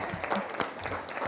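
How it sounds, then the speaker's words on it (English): Audience applause for a school chorus at a board of education meeting, a short burst of scattered clapping in a meeting room, moderately loud and uneven. "let's give the Hollis Innovation Academy Chorus one more round of applause"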